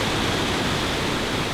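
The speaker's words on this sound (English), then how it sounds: "The next stop on the tour was the multi-level Seraphim Waterfall." Water roaring down the multi-level Seraphim Waterfall in Thailand, a loud, dense, unbroken rush filling the foreground, steady throughout with no voices.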